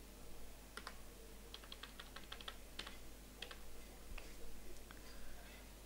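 Light tapping on a computer keyboard as a web address is typed, with short bursts of quick keystrokes and pauses in between over a quiet room hum.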